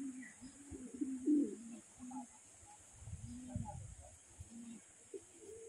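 Racing pigeons arriving at the loft after a flight from Atimonan, Quezon: faint, scattered low coos and soft flutters over a quiet background, with brief gaps between sounds.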